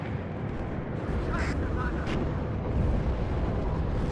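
Leopard 2A3 tank cannon fire in the WARNO war game, buried in a dense, continuous roar of battle noise that stays loud and steady throughout with no single distinct blast standing out.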